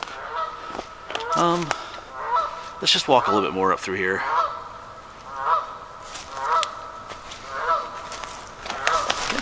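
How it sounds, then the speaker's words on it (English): Geese at a beaver pond honk in loud repeated calls, a burst of several overlapping honks early on, then scattered single honks at intervals, while someone talks briefly nearby. "Yes, I think the geese have seen me here."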